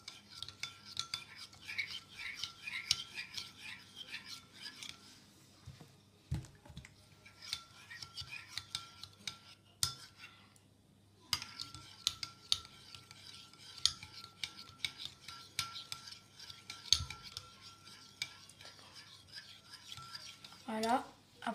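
Glue and laundry detergent slime stirred in a bowl, giving steady close scraping and sticky squelching strokes with brief pauses between bursts.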